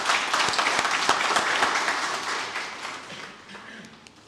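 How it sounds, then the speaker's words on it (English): Audience applause welcoming panelists at a peace, security and justice symposium in Musanze, Rwanda: a full round of clapping with a few sharp distinct claps up front, gradually fading out. "Shall we welcome our panelists with a round of applause"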